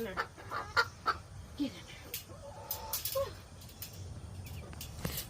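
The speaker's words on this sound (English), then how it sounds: "why am I chasing my chickens and putting them in this little bitty cage?" Chickens cluck and squawk in scattered bursts, close by, while being herded into a small cage for the night on a hot evening, with a person's voice briefly talking over them.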